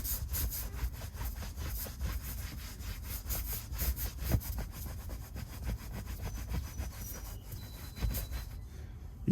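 Steady back-and-forth rubbing of a damp microfiber cloth scrubbing a white Tesla seat, a fast, rhythmic, close scraping that runs continuously without talk.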